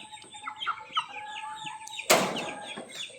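Rhode Island Red chickens cluck and chatter in a repeated series of short calls, with a sudden burst of wing flapping or rustling partway through.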